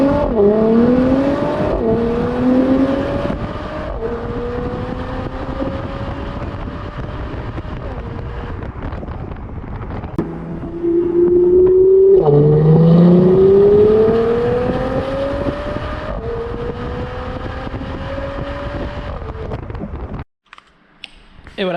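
A Mercedes GLC 43 AMG biturbo accelerates hard in two separate pulls, its engine and exhaust note climbing through the gears, loud and close, before fading out at the end.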